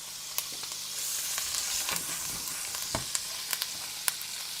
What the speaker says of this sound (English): We're just going to add the butter, the crushed garlic and thyme from earlier into the pan.